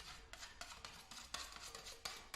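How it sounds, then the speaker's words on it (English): Plastering knife scraped clean after taping joints: a series of close, gritty scrapes repeat in quick strokes, each a short rasping burst of metal over hardened plaster. "if you're cleaning up your knife, you can see there I'm scraping away from my hand"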